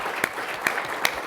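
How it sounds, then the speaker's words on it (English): A few sharp, separate hand claps from an audience at an annual meeting seminar, three distinct claps spaced evenly against a quiet background. "let's just have a round of applause for Lisa."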